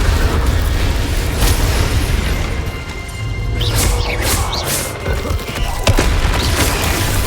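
An Incendio fire spell cast during a Hogwarts Legacy duel: a dense, loud, roaring blast of fiery noise runs continuously, with sharper bursts and whooshing swells partway through and no clear speech.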